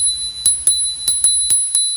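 A 5TH WHEEL V40PRO electric scooter's handlebar bell rings six times in quick, bright metallic dings, close and loud with no talk.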